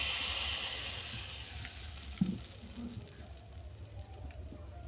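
Oat batter sizzles on an oiled pan while making pitha, a soft steady hiss that fades slightly over the clip, with a brief clatter midway.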